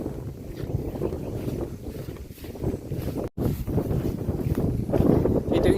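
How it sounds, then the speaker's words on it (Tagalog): Strong wind buffets the microphone in a continuous rough rumble, gusting harder toward the end. "Mahangin ngayon na, parang ulan"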